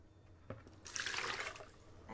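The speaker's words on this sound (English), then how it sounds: "I add 40 ounces of water" Water poured from a container into a blender for a raw vegan kale smoothie, a steady splashing rush for about a second, with faint drips before and after, close and moderately loud.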